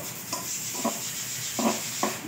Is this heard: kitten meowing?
no